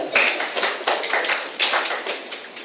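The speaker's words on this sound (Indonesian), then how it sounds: "Beri tepuk tangan mereka." A church congregation claps together at a Sunday morning service, a dense, steady patter of many hands filling the room for a few seconds.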